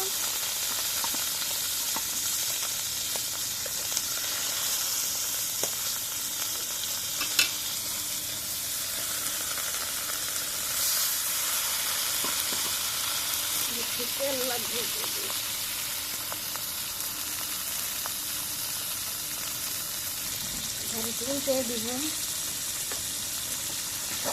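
Dried fish (chepa shutki) sizzles and hisses steadily in hot oil while being fried for puli. The frying is constant and fairly quiet, with occasional stirring clatter and a faint voice now and then.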